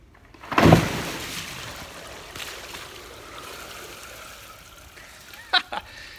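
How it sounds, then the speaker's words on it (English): A big bucket of water splashes down into a slot drain at a vineyard winery, a loud gush followed by a fading trickle and a couple of clanks, with no talking over it. "that was a huge bucket of water, and that slot just took it all in"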